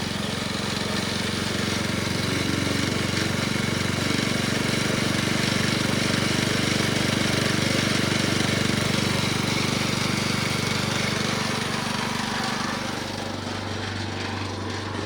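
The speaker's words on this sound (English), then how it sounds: "Increasing engine speed." A loud vintage gold trommel wash plant pump engine drones steadily at high revs, a dense rattling roar that holds constant throughout, easing slightly near the end.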